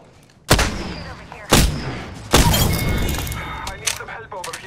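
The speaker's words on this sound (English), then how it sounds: "Opening fire on the enemy." Gunfire in the video game Apex Legends: three loud, sharp blasts spaced about a second apart, the last followed by sustained rattling and debris noise, with game voice lines in between.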